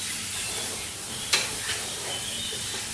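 Chicken pieces drop into a hot pot of onions and toasted spices, setting off a brief sharp sizzle burst that settles into a soft, steady frying hiss, with no talking.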